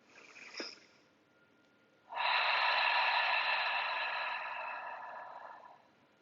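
A long, steady inhalation during a slow restorative yoga class, a single breathy draw of air lasting several seconds after a short sniff, close and fairly quiet.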